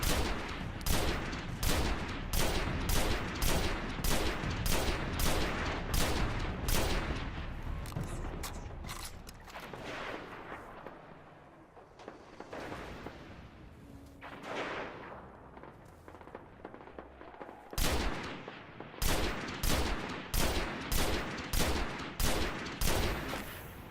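Rapid gunfire in the shooter game Destiny, fired in dense bursts, pauses for a few seconds, then resumes in a loud, steady stream of repeated shots.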